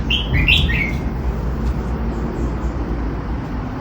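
A red-whiskered bulbul sings a few quick bright chirping phrases near the start, over a steady low rumble of traffic, then the song stops.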